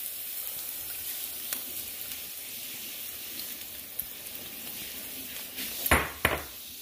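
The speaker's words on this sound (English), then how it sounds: "Okay, we're gonna add our egg now." An egg fries in a hot pan for tacos, giving a steady, even sizzle like light rain. A couple of sharp clinks of utensil on pan cut through near the end.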